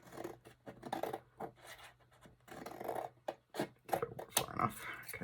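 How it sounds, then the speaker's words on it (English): Scissors snip small wedges out of paper for a prayer journal pouch, a close run of short, crisp cuts and scratchy paper rustles at an uneven pace, with no talking. "I'm actually going to cut my little wedges first."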